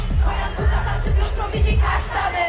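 A crowd at a concert shouts together in a loud, rhythmic chant, the voices pulsing in quick repeated bursts.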